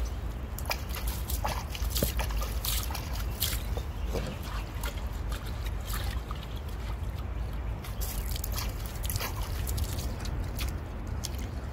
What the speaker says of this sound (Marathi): आता मी भांड घासून घेते.